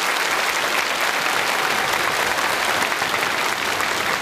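Sustained applause from a large studio audience at a television variety show in Sulzbach, dense and even clapping filling the whole stretch at steady loudness.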